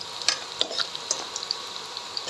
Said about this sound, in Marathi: कांदा लाल होईपर्यंत थोडा आपण हलवून घेणार आहोत.